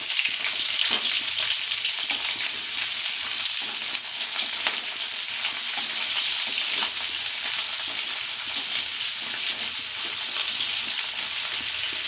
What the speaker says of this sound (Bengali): সব সবজিগুলো এক এক করে দেবো আর দুবার চারা করে একটু নাড়াচাড়া করে নেবো